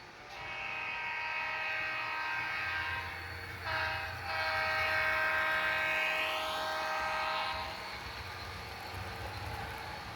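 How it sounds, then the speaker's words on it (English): A Santa Fe train passes by at speed, its steady rumble swelling and fading over about ten seconds with a long horn blast sounding in the middle, heard from a distance. "Train 98 heads by us again. Now moving faster headed towards LA."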